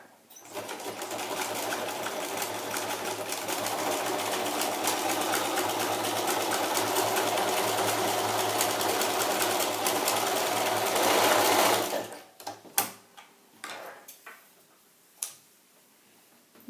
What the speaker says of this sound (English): all you have to do is just serge the edge.